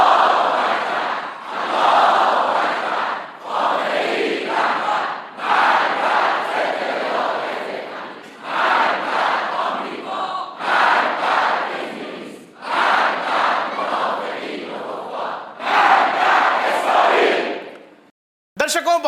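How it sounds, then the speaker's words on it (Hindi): Large crowd chanting slogans during a speech by Khamenei: about eight loud, rhythmic shouted phrases in steady repeated bursts with short pauses between them, a mass of voices in unison. "खामनेई के भाषण के दौरान वहां सामने खड़ी भीड़ क्या नारे लगा रही है"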